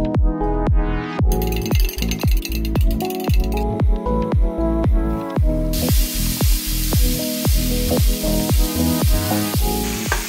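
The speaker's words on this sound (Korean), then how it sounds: "요 덮밥에 들어갈 에그 스크램블, 스크램블 한 4개 해줄게요" Steady, loud sizzling of scrambled eggs frying in a pan, with repeated metallic scraping and stirring strokes throughout.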